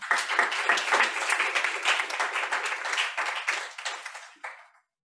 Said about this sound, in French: S'il vous plaît, applaudissez-le.